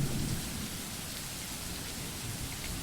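Steady, loud rain with a low thunderous rumble in the video game The Letter, a continuous downpour filling the whole stretch with no voices.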